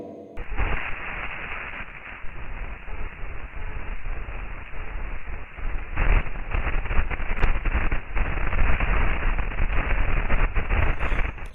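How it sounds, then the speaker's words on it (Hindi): Saturn radio signals from space converted into sound, heard as a steady, dense crackling hiss like radio static that runs throughout at an even level, with no voices over it. "सैटर्न साउंड, शनि ग्रह की आवाज।"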